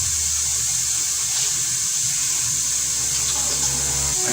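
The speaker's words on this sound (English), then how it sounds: "I'm going to get rid of a little bit of the juice out of the tomatoes" Juice draining from canned tomatoes makes a steady, close pouring rush of liquid that runs continuously and evenly for the whole stretch, with no voices.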